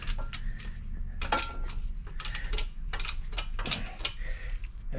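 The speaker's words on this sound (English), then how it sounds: "This is a 27 millimeter socket, if you're wondering. I got it started. It's going in pretty good." A ratchet drives a 27 mm socket to press a Del-A-Lum control arm bushing into a Corvette, giving close, uneven clicking and metallic clanks in a garage with no talk.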